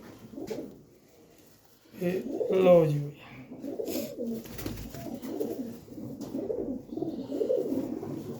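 Pigeons coo at a pigeon sale, soft repeated throaty calls rising and falling near the listener while someone talks over them.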